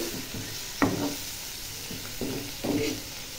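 Dried shrimp with chilli powder sautéing in a pan, a soft background sizzle broken by several separate scraping stirs at irregular intervals, close and fairly quiet, with no talking.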